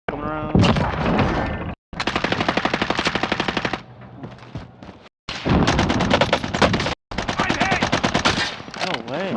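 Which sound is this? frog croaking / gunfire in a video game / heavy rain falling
gunfire in a video game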